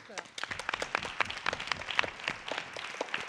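An audience at a round-table panel on gender equality in science applauds, a lively burst of many individual claps with distinct sharp hits, fairly close and sustained throughout.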